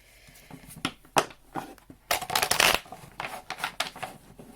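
A deck of oracle cards is shuffled close by in quick riffling bursts, crisp flutters and taps with a denser riffle in the middle, with no talking.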